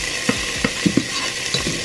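Minced garlic sizzles in oil in a pot with a soft continuous hiss, broken by a few close clinks and scrapes from stirring utensils, and no talking.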